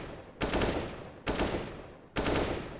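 Three loud gunshots from a video game ring out close, one by one about a second apart, each with a sharp attack and a fading tail.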